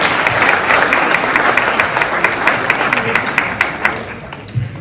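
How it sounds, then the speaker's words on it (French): A crowd at a mayor's New Year ceremony applauds young municipal councillors, loud sustained clapping that thins slightly toward the end, with some voices mixed in. "Il faut les applaudir."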